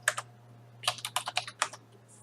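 Computer keyboard typing a terminal command, a quick isolated keystroke pair followed by a rapid burst of about eight clicks, close and clear over a low steady hum.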